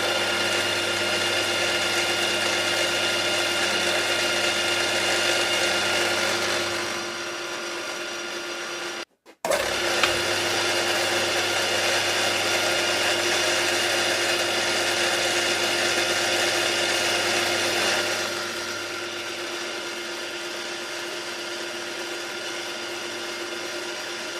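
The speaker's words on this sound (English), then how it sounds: "We need some high speed drilling there." A high-speed drill in a model engineering workshop bores 1.7mm holes in small live-steam safety valve parts, giving a steady, even machine whine with a brief cut-out partway through and a slightly quieter drone afterward.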